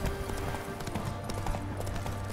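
Horse hooves clip-clopping in The Witcher 3 video game, a busy continuous patter of hoofbeats over a dense background of game ambience.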